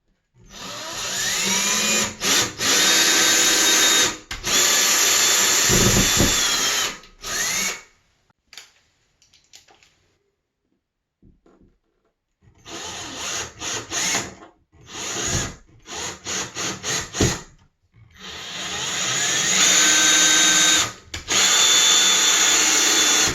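A power drill drives a screw into drywall to make a pilot hole for a towel bar install. It gives loud whirring bursts that start and stop repeatedly, with short pauses and a few shorter pulses in the middle.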